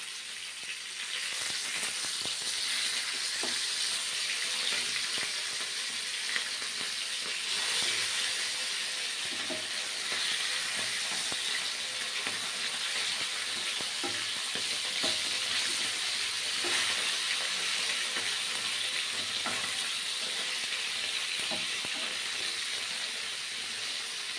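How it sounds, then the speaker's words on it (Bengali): Tilapia frying in oil gives off a steady, loud sizzle and crackle that carries on unbroken throughout, with no voices. "এদিকে মাছ ভাজা এক পিঠ হয়ে গেছে, এখন এটাকে উল্টে দিতে হবে"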